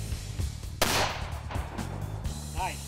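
A single loud hunting-rifle shot fired outdoors, a sharp crack followed by a rolling boom that fades over about two seconds, with a faint voice afterward.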